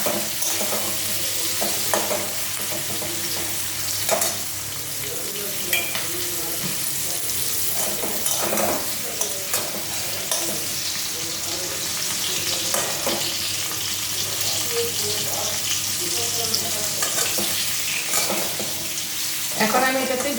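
Four slit green chillies fry and get stirred in a pan, giving a steady close sizzle broken by repeated scraping and tapping of the spoon, with a voice faintly present at moments.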